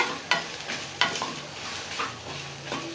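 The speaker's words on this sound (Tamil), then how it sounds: "ஸோ விடாமல் கிளறிட்டே இருக்கலாம்." Peanut chutney mixture is stirred nonstop in a light silver kadai as it starts to catch on the bottom. Steady sizzling runs under repeated scraping strokes and sharp metal knocks roughly every second.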